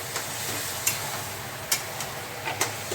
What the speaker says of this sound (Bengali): এরপরে সোয়াবিন বাটাটাকে দেবো, দিয়ে দিলাম। দিয়ে খুব ভালো করে নাড়তে হবে